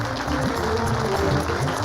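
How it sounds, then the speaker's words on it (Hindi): Audience applause from a televised quiz segment, a short steady burst of dense clapping heard alone at close range. "तालियां"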